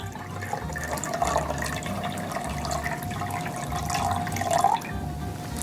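Tap water running into a measuring container during lab prep for making shellac, filling toward 1,500 milliliters, a steady close gurgling stream that rises slightly in pitch before cutting off.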